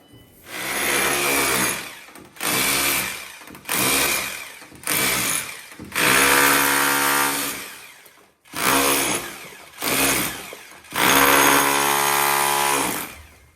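A loud power tool breaks up a floor to reach a water leak, grinding and chipping in repeated bursts of a few seconds each, with short pauses between, close by and harsh.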